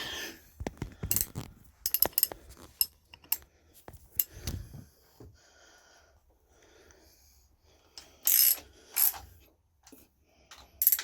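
Bolts being tightened on a JP2 engine, heard as scattered close metallic clicks and ratcheting taps in uneven bursts, with quiet gaps and a louder clatter near the end, no speech.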